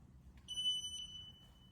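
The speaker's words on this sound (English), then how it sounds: "As you can see at the moment the reverse beeping sound is on." A CWU carbon fibre electric wheelchair sounds its reverse warning, a single clear high-pitched electronic beep that rises once and holds briefly, faint against a quiet low background.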